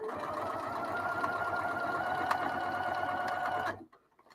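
A sewing machine stitches two fabric pieces together for a quilted summer sheet, a close, steady rapid whirring run lasting several seconds before stopping abruptly.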